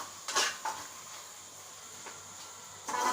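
A prawn masala gravy stirred in a pan, with a few scraping clinks of a spoon against the metal over a soft steady simmering hiss. There are no voices.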